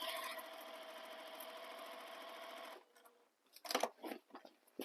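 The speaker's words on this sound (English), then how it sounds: "I'm just stitching all the way around each pattern piece" A sewing machine stitching around bag pattern pieces whirs in a steady, fast buzzing run for almost three seconds, then stops and is followed by a few soft, irregular handling clicks and rustles.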